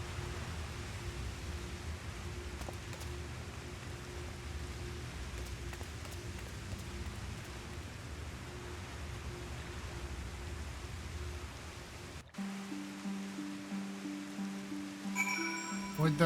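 Steady rainfall in the video game Final Fantasy XIV, an even, soft hiss that runs for most of the stretch before cutting off abruptly and giving way to a low tonal drone.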